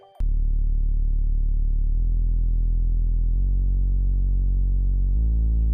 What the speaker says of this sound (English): This stick bass sound was made using the sub setting in the pack